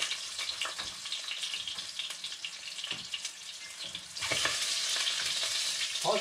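Tomatoes drop into hot fat in a pan and fry with a steady, close sizzle and spatter that gets noticeably louder and denser partway through, with no talking.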